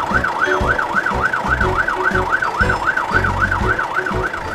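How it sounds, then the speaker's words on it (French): A toy Paw Patrol fire truck sounds its electronic siren. The steady, rising-and-falling wail repeats close and loud throughout, over a faint rhythmic thumping beneath. "Waouh, une vraie voiture des pompiers."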